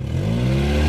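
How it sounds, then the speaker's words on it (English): A beat-up car's engine revs up for a burnout, a loud steady drone climbing in pitch through one short sustained pull with no one talking. "All right, rev it up."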